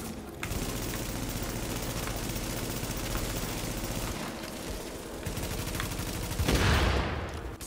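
Sustained automatic gunfire from The Division video game, dense rapid bursts running nearly continuously at close range, with a brief lull before a heavier burst near the end.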